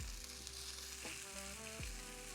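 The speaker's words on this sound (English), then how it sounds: "Let's go ahead and now cook our sausage." Sausage sizzles and fries steadily in a pan at close range, a continuous hiss with no talking.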